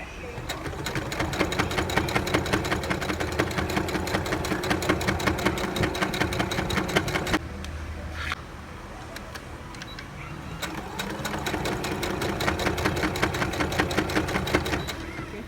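A domestic sewing machine stitches skirt pieces and an in-seam pocket, running loud and close in rapid bursts with a short pause partway through.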